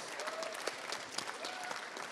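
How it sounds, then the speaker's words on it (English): Convention crowd at a comic con live show applauding, a thick, continuous rattle of many hands clapping at moderate distance, fairly quiet overall. "give him a round of applause"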